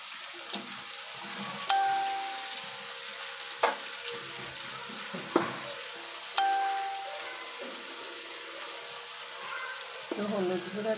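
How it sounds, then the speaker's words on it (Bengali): Sliced onion and dried fish frying together in a pan give a steady crackling sizzle, broken by a few sharp metal clinks and stirring scrapes, close up with no voices. "তো পেঁয়াজের সাথে আমি শুটকিগুলো একটু ভেজে নেব।"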